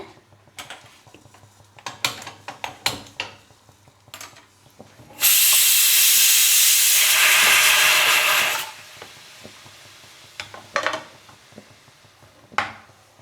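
Several sharp clicks, then a gas burner bursts into a loud, steady hiss for about three seconds before cutting off, followed by more scattered clicks.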